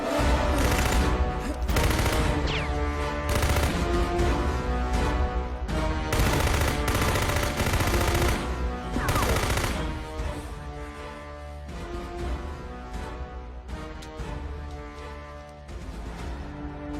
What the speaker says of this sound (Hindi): ये गन है, नीचे बैठ।